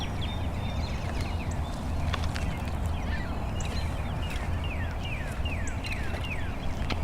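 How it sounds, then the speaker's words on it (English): A northern cardinal repeats a series of clear, downward-slurred whistles at a steady pace, moderately distant over a constant low rumble of background noise. "Yeah, there goes that cardinal."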